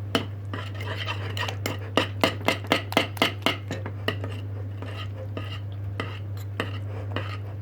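A spoon stirs margarine melting in a metal pot while Turkish delight is being made. It clinks and scrapes against the pot in a quick run of taps, then slows to softer scraping over a steady hum.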